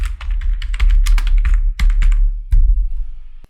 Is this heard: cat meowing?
no